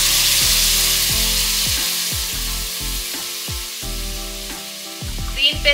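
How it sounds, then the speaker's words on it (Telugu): A green paste with mint cooks over high flame in a pan, a steady loud sizzle running throughout, punctuated by roughly a dozen low knocking thuds, with a few brighter scrapes near the end. "గ్రీన్ పేస్ట్ వేసుకున్నాక ఒక 2 నిమిషాల పాటు బాగా కలుపుతూ ఉడికించుకోండి"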